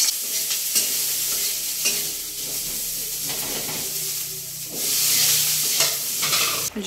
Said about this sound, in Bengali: ঝোলটা একদম ফুটে গেছে, এবারে ঝোলের মধ্যে মাছগুলো সব দিয়ে দিলাম।